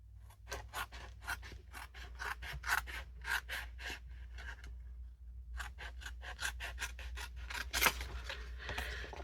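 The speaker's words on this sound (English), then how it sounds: "we'll trim that off" Scissors trim a paper envelope in a quick series of close, crisp snipping cuts, with a short pause between bursts, over a low steady background hum.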